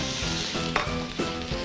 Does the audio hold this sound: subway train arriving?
no